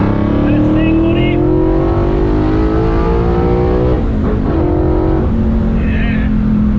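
The Hako car's engine revs hard on a race track, loud and close, its pitch climbing steadily, dipping briefly, then climbing again in one continuous run.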